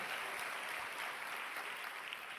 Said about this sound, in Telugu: గట్టిగా చప్పట్లు కొట్టి ప్రభును మహిమపడదాం.